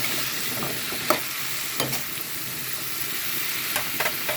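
Vegetables being stirred in a hot pan, a steady frying sizzle broken by several utensil scrapes and knocks against the pan, close up with no talking.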